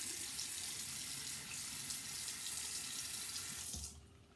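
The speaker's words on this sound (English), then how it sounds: "I'm at the sink in the bathroom." A bathroom sink tap runs steadily with close splashing as water is put on a face, a continuous hiss that cuts off abruptly near the end.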